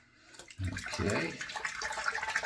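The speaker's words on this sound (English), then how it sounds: "let's put a little splash, a little water on." Water splashes onto a face during a wet shave with shave soap, a short close burst of wet splashing and dripping that carries on for a couple of seconds.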